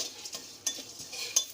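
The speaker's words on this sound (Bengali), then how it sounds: "এবার আমি নাড়তে থাকবো।" Whole spices roasting in a hot kadai are stirred with a metal utensil, making soft, faint scraping and light clinks with a couple of sharper knocks against the pan over a quiet sizzle.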